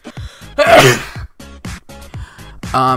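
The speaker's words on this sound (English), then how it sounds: "I gotta sneeze" A loud sneeze erupts close by, with a sharp breath before it and speech resuming on both sides.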